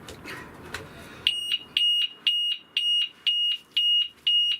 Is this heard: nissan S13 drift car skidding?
no